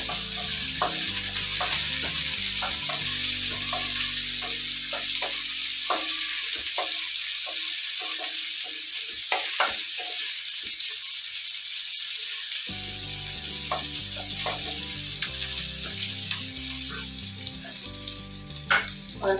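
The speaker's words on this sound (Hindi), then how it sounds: "अब मैं इसमें एक छोटा बारीक कटा हुआ प्याज डाल दूंगी।" Finely chopped onion fries with okra in a pan, a constant close hiss and sizzle broken by scraping stirs; the sizzle thins for several seconds midway, then returns at full strength.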